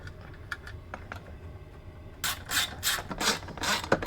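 A ratchet drives cross bolts into a snowbike storage mount: faint scattered ticks at first, then a louder run of quick, close clicking strokes in short bursts.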